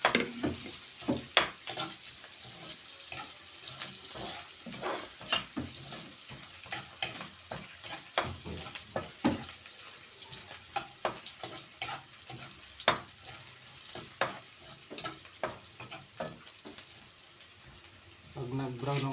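Garlic fries in a pan, a faint crackling sizzle broken by frequent scraping and stirring clicks of a utensil against the pan.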